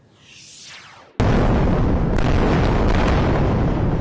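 A heavy explosion in war-zone news footage from Israel during an attack: a rising whoosh, then a sudden loud blast that rolls into a sustained roaring rumble, close and dominant.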